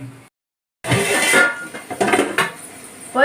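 Stirring biryani masala in a cooking pot for a Muslim wedding biryani: a spoon scrapes and clinks against the metal pot in short, uneven strokes after a brief silence, close and moderately loud with no talking.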